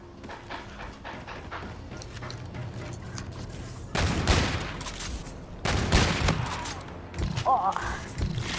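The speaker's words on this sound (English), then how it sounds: "I'm gonna go for a few shots here" Sniper rifle fire in Call of Duty: Infinite Warfare: two heavy, booming shots a couple of seconds apart ring out over a low background of game noise and muffled voices.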